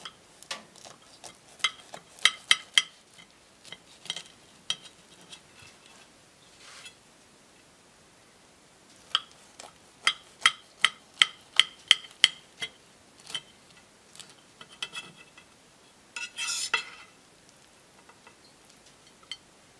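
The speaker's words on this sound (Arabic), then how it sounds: "نقطع منها شويه نشوفها كيفاش جات من الداخل." Semolina harsha bread being sliced with a knife, giving a series of crisp, short clicking crunches in bursts, loudest around the middle and near the end, close up with no talk.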